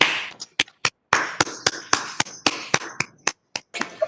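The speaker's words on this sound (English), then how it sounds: "Loud of applause for Professor Dharma Putra" Sparse applause for Professor Dharma Putra at a tourism and entrepreneurship conference in Bali, a handful of separate sharp claps at an uneven rhythm, close and fairly clear.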